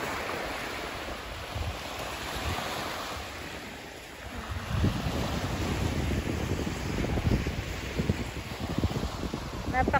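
Sea waves washing onto White Sand Beach in Latvia, a broad steady surf wash with wind buffeting the microphone, growing fuller in the second half; a voice talks faintly at the start.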